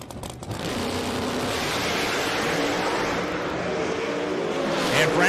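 Nitrous-fed street drag car launching down the track at the US Street Nationals, its engine a loud, sustained roar building steadily over crowd-level background noise for the full run.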